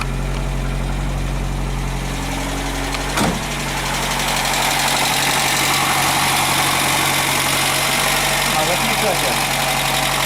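A Polonez Caro Plus engine idles steadily up close during alternator rectifier bridge repair, a continuous low mechanical hum with a brief knock near the start and rising intensity later, with a voice speaking over it.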